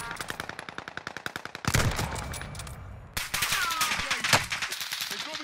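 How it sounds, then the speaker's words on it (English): Rapid automatic gunfire rattles in a fast, even burst, then heavier bursts and scattered shots crack close by in a Warzone firefight on Caldera. "They're shooting at me."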